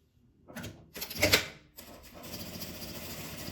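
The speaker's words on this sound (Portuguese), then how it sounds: "Agora vamos para a máquina. Aqui eu vou passar a minha costura por dentro primeiro." A sewing machine stitches a felt wreath base close up, with short whirring bursts followed by a steadier run of stitching.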